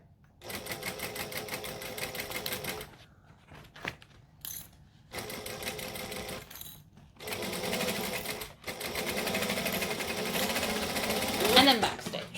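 Sewing machine stitching a crossbody bag, running close by in steady bursts of rapid stitching separated by short pauses.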